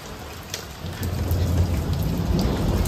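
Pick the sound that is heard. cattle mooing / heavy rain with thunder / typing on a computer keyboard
heavy rain with thunder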